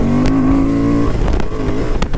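Honda Transalp 750 motorcycle engine revved hard at full power, a loud, close, sustained rising drone with strong harmonics for about a second before settling into rougher, uneven engine roar.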